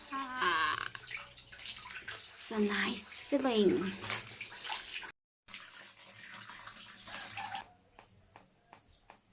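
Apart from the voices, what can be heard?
rinsing clothes by hand in clean water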